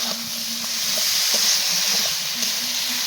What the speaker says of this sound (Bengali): এই পর্যায়ে কিন্তু বেগুনগুলো দিয়ে দিতে হবে।